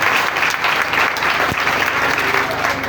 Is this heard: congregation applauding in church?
yes